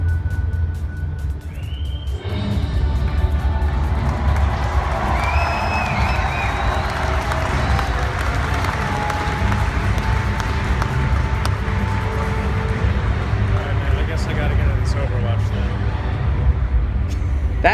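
A large BlizzCon convention crowd roars and cheers at the reveal of new Overwatch heroes. After a brief lull, the noise swells into a loud, sustained wave of cheering and applause that keeps going to the end.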